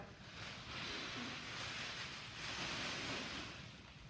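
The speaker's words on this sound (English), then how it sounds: "using the Bernoulli Principle, I can fill this with air in one breath" Faint, breathy rush of air blown in one long breath into the mouth of a Bernoulli bag, rising and falling in two soft surges without talk.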